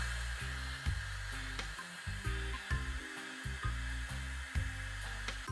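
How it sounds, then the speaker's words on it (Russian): A hair dryer blows steadily over the top layer of a woven newspaper basket, its loud continuous airflow hum wavering as it is moved back and forth in short sweeps. "верхний слой мы должны подсушить феном"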